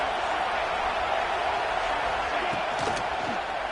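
A big stadium crowd roars steadily for the defense near the goal line at a North Carolina versus Auburn football game, a dense, continuous wall of noise under a commentator's talk.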